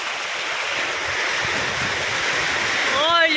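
Dense, steady hiss of heavy rain pouring down, with a rising whistling tone near the end.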